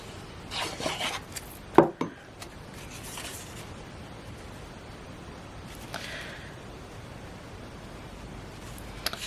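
Cardstock panel being glued and rubbed down onto a handmade card: soft scraping and rubbing strokes with a couple of light taps, quiet and close.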